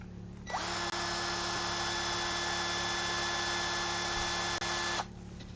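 A worn, dull drill bit spins against a workpiece without cutting, a steady high-pitched power-drill whine running for about four and a half seconds at close range and then cutting off.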